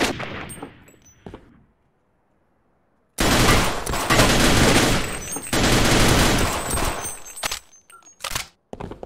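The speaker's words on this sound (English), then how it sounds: "that guy's got a sniper rifle" Gunfire from a sniper rifle in the video game Half-Life during co-op play: a few sharp shots at the start, then a long loud stretch of dense, sustained firing with sharp cracks toward the end.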